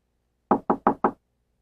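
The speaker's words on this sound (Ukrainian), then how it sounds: "Давай постукаємо." Four quick, evenly spaced knocks on a door, close and crisp, during a Christmas stage play, with silence before and after.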